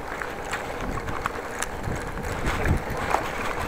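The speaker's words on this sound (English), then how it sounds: "there is wind" Wind buffets the microphone during a bike ride through city streets on a cool day, a steady rushing roar with occasional gusty thumps, fairly quiet and uneven throughout.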